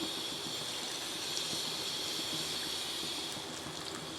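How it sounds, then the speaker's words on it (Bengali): Hot water poured into a cooking pot while making roast gives a steady, close, gentle rushing pour lasting a few seconds, soft and continuous without talk. "গরম পানি এখন দিয়ে দিচ্ছি"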